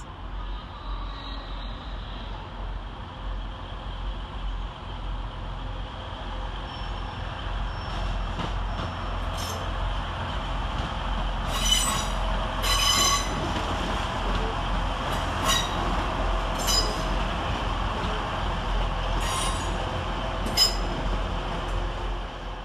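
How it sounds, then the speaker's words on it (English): A TransPennine Express Class 185 diesel unit from Scarborough arrives at Manchester Piccadilly, a sustained engine drone and rumble filling the station, with several short high squeals of brakes or wheels near the end. "terminate with a Transpennine Express service off of Scarborough is 185 126"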